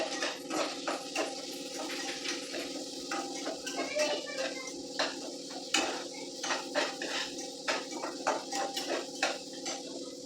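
Onion and capsicum stir-fried in hot oil for a Manchurian dish, with frequent scraping and clattering of a spatula against the pan over a soft sizzle, near and rhythmic.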